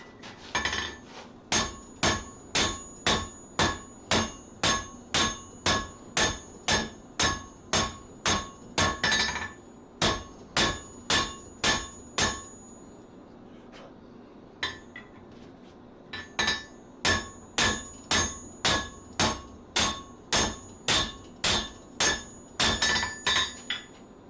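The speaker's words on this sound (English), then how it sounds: "sometimes I got a power hammer sitting right there" Blacksmith's power hammer forging metal, striking in fast, even bursts of loud metallic blows with short pauses between runs, ringing and clanging close by.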